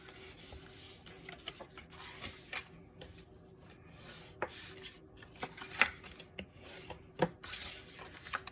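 Paper flaps on a handmade celebration album are folded and burnished, giving faint, close rustling and rubbing strokes with scattered soft taps and creases.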